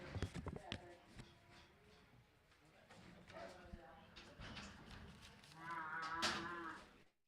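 Cattle low and moo in a pen at a weekly livestock auction at Clinton Stockyards in Arkansas, the calls rising loudest near the end over a busy hall, with clattering hooves and people talking.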